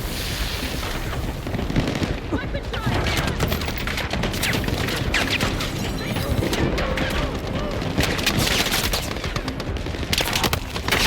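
Dense, loud gunfire and explosions from the video game Battlefield 6, with rapid overlapping shots and booms filling the whole stretch, while a voice talks faintly underneath.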